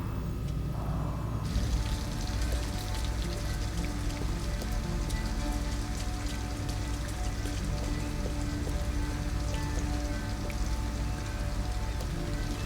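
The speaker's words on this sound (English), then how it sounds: "At least we'd be out of the rain." Steady rain pours in the video game Detroit: Become Human outside an abandoned house, a dense, even hiss of drops on surfaces that continues unbroken at moderate loudness with no voices.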